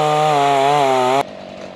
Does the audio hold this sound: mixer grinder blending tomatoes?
no